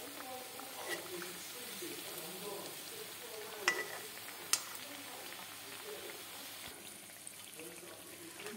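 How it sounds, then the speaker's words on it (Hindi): Cauliflower kachori, two or three at a time, deep frying in oil on a low flame, giving a steady soft sizzle throughout with a few sharp pops and occasional stirring clinks. "बीच बीच में चलाते हुए इसे लो फ्लेम पर फ्राई होने दे"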